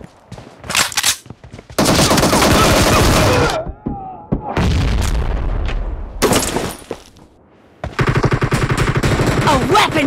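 Automatic gunfire in the PUBG Mobile video game, with loud sustained bursts of rapid shots broken by short gaps and a few single cracks.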